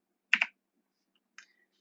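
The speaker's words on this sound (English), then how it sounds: "Now we're going to type print" A few separate keystrokes on a computer keyboard, typed while entering a Python print command: a quick double tap, a pause, then one softer click, close and clear in an otherwise quiet room.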